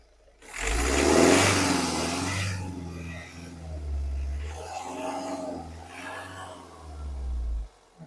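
Mahindra XUV 300 W6 2022 diesel engine running steadily with the bonnet open, a continuous close engine drone with slight rises in revs and no voices.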